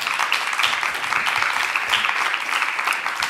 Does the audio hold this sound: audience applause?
yes